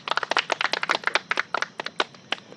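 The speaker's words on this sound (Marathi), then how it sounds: "सगळ्यांनी एकदा टाळ्या वाजवा त्यांच्यासाठी." A small crowd claps for a quiz winner at a kirtan gathering, a short burst of scattered, uneven hand claps that thins out toward the end.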